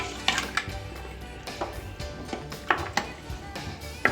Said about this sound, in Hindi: तो अच्छे से मैं मिक्स कर दूँगी